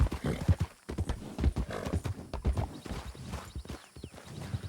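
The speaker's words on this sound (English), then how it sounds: "Oh, I think your horse is faster than theirs." Hooves clip-clop quickly and rhythmically as horses gallop in a Wild West gold-rush role-play video game. The hoofbeats are close and loud, with occasional brief gaps and some faint background voices.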